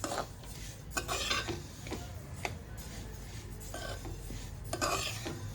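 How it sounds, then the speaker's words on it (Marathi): Sesame seeds being stirred and roasted over medium heat in a pan for til laddoos and chikki, a faint, steady rasping scrape with light taps and clicks, close but quiet, with no voices. "आता ते आहेत ना आपल्याला मिडियम गॅसवरती चांगले असे खमंग भाजून घ्यायचे आणि ढवळत राहायचे सतत"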